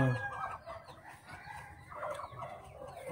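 Chickens cluck softly in short, uneven bursts near a nesting box, somewhat distant, with light rustling underneath and no one speaking.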